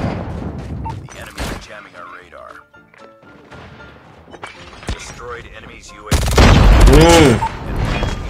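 A Mythic MG42 machine gun in a video game fires in scattered shots, then erupts into a loud, sustained burst near the end, while someone talks excitedly throughout.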